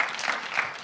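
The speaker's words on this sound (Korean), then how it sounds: "큰 박수 보내주세요" Audience at a reading-habit lecture event applauds, a brief dense burst of many hands clapping at close range with no voices.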